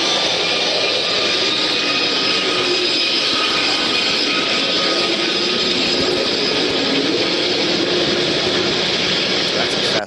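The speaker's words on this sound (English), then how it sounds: "That's a fast-moving boat passing the hydrophone." A loud, continuous roar of a fast boat rushes past an underwater microphone, a broad hissing engine wash that stays intense for the whole stretch.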